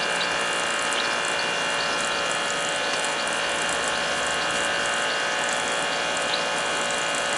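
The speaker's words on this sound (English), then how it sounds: "Look at the water coming out of it" Water gurgling and churning out of a gas water heater flooded under four feet of water, a steady dense wash of noise with faint mechanical clicking throughout.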